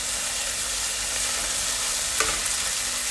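Mustard paste stirred into hot oil in a pan for prawn curry gives a steady frying sizzle with a brief scrape of the spoon, alone and without talk.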